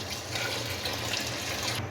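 About three litres of water pour onto soaked lentils and grains in a cooking pot for beef haleem, a steady, close, continuous gushing rush.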